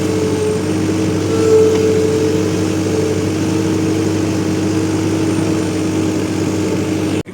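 A Caterpillar 226 skid steer loader engine runs steadily and loudly at a constant drone, close by and unbroken, cutting off abruptly at the very end.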